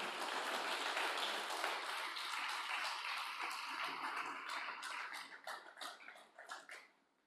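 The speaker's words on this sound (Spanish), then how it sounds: "denle un aplauso al Señor" A church congregation applauds during a Christian sermon, the dense clapping loud and sustained at first, then thinning into scattered, separate claps that die away at the end.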